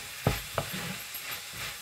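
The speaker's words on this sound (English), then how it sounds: "Let's cook the spices for 1 minute." Dry spices, including red chili powder, frying in a pan for a French beans and potato sabji: a close sizzle with two quick scraping stirs near the start, then a softer, even frying hiss.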